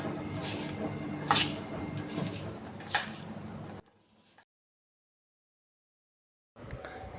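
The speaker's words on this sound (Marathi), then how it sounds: "यानंतर अर्धा लिंबाचा रस टाकून हे सगळं चांगलं मिक्स करून घेणार आहे" Sliced okra being tossed by hand in a bowl with salt, turmeric, coriander-cumin powder, red chili powder, gram flour and cornflour: soft, wet squishing and rustling for about four seconds, then silence before a brief return at the end.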